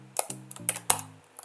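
Typing code on a computer keyboard, a few quick separate keystrokes close to the microphone over a faint steady tonal hum.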